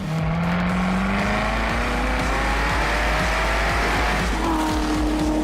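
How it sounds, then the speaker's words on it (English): A roughly 170-horsepower car driven on a track blips its engine to rev-match on corner entry. Engine pitch rises and falls in loud, close bursts over steady road and wind roar. "Nice, that rev match is brilliant."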